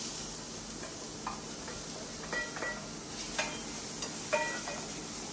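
Onion goes into a hot pan with garlic and green chili paste, giving a steady soft sizzle under scattered light clinks and scraping of a stirring spoon.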